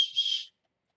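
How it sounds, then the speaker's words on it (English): A small plastic survival whistle built into a paracord watch strap gives one short, shrill, high blast of about half a second, close to the microphone and heard alone. "It's also got a whistle."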